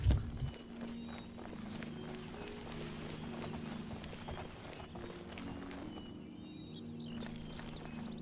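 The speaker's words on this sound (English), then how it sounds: "Oh, there's my horse." A horse's hooves clip-clop steadily in the Elder Scrolls IV: Oblivion video game, a continuous patter of footfalls at moderate volume over ambient game sound.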